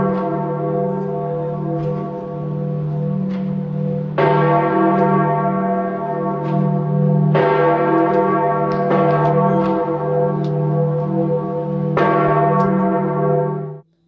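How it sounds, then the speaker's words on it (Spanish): The church bells of St. Peter's Basilica peal continuously with rich, overlapping tones, fresh strikes renewing the ringing every few seconds, loud and steady with no voices. "suenan durante 10 minutos seguidos las campanas de la Basílica de San Pedro."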